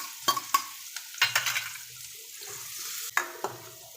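Onions tipped into hot oil already holding curry leaves and chopped garlic, giving bursts of crackling sizzle and spoon scrapes against the pan, irregular and close, with quiet gaps between.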